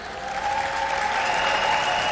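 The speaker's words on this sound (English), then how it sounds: "please give a round of applause for the president of the Miss Universe organization, Paula Sugar" Audience at a Miss Universe 2021 semifinal applauds as the organization's president is introduced, a brief, swelling burst of clapping over faint background music.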